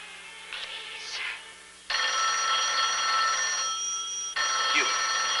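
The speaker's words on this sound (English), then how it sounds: "Answer that phone." An old telephone bell rings in two long sustained bursts with a brief pause between, loud and close in a quiet room, after some muffled talk at the start.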